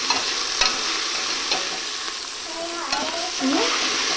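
Vegetable pulao sizzles in a hot pan as it is stirred, a continuous frying hiss with scraping, clinking strokes of the spoon against the metal.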